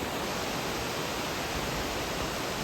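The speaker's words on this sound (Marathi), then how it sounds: "मार्लेश्वर धबधबा बघा मित्रांनो" Loud, dense roar of Marleshwar waterfall in Maharashtra, unbroken rushing water filling the whole span with no other sounds.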